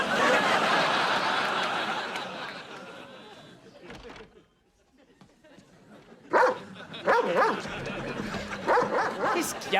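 A person imitates a dog with barks, yips and whimpers in a TV comedy scene, voiced close and loud in several bursts, with other people talking around it.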